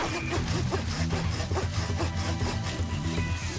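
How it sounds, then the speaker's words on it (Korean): A hand saw rasps through a tree in quick back-and-forth strokes, close up and rhythmic, about a few strokes per second. "갑자기 나무에 톱질을 하기 시작합니다"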